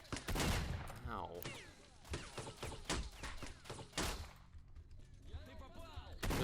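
Gunfire from allied fighters in STALKER Shadow of Chernobyl, a series of loud sharp shots and bursts at an irregular rhythm with brief gaps, some close and punchy, with a voice heard in places.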